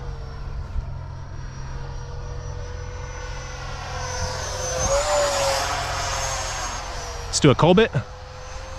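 Freewing F-22 Raptor RC jet flying overhead, a steady electric ducted-fan whine that swells as the model passes near, with someone talking over it and a louder burst of noise near the end.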